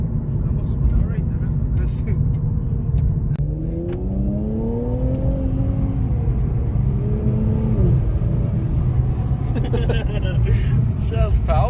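An Infiniti Q50 fitted with an Ark Performance exhaust rumbles loudly as heard from outside, then rises in pitch through a strong acceleration under a constant, heavy drone, with the exhaust note swelling and dropping back.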